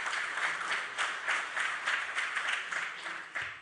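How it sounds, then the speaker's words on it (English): An audience at a Namibian biomass industry event gives a short burst of steady, moderately loud applause, many hands clapping together at a slight distance. "So please give him a warm round of applause."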